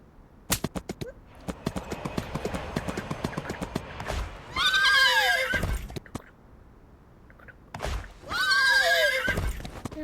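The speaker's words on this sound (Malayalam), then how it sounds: "അതാ എന്തൊക്കെയാണത്, കുതിരകൾ, കുതിര." Horses in a video game clatter along in quick clip-clop hoofbeats, then give two loud, drawn-out whinnies a few seconds apart. The sound is close and clear, with no talk over it.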